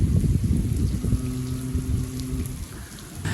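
Steady rain falls outdoors, a dense even hiss of drops on surfaces, loud and close throughout with a faint tonal hum in the middle.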